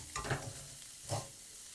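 Minced pork with sliced green onions stir-fried dry without oil, giving two brief spatula scrapes over a faint, steady sizzle, fairly close and with no talk.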